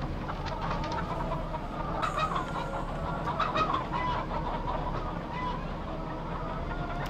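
Chickens clucking steadily in Farming Simulator 2015, a dense flock of game hens murmuring and clucking throughout over a constant background bed, with occasional louder clucks standing out; no speech over it.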